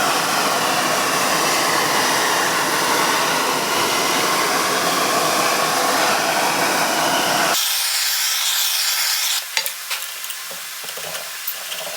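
A heat gun blows hot air onto a gasket to loosen it during a Bosch P7100 injection pump rebuild for a 1995 Dodge Ram 5.9L, a loud steady close roar that cuts off partway, leaving faint clinks and handling noises.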